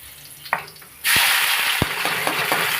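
Curry leaves hit hot oil already holding cumin and asafoetida, bursting into a loud, steady sizzle after a quieter start, with a few sharp spoon taps and clinks over the frying.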